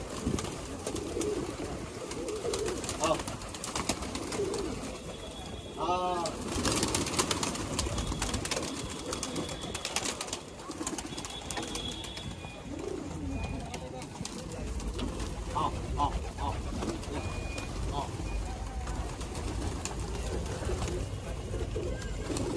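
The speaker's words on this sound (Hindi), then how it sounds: "बहुत चलाक कबूतर है भाई" Pigeons coo on a rooftop, giving soft repeated calls throughout against outdoor background noise. People talk nearby and there are occasional rustles and flutters.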